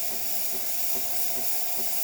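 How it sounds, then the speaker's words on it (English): Steam wand on a Kanen espresso machine being purged, letting out a steady, loud, continuous hiss with a faint rhythmic pulsing underneath, no talking. "So we're going to turn on the steam."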